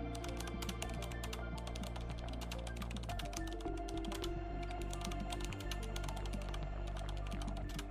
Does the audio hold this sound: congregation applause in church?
no